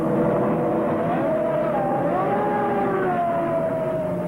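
Formula One race cars at Bristol Docks in 1978 roar past close by, their high engine notes rising and falling continuously and loudly without any break.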